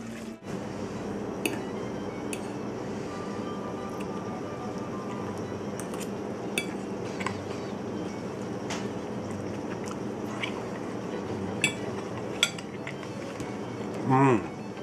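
Plating lemongrass chili chicken in a home kitchen: scattered light clinks and taps of utensils against dishes over a steady low background, with soft wet squishing sounds near the end.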